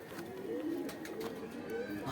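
Soft, low coos from desi pigeons repeat a few times at close range over a faint background hum, with no talking.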